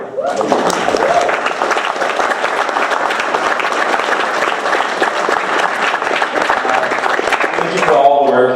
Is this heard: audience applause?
yes